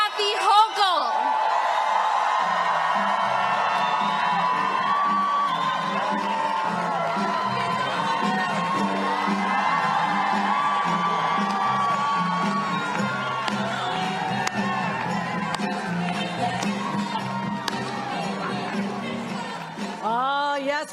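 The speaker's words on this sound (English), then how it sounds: "can I just have the crowd make some noise as much as you can for our governor?" A rally crowd in Westchester cheers and whoops for Governor Kathy Hochul, a loud sustained roar of voices and shouts lasting many seconds, with talk mixed in.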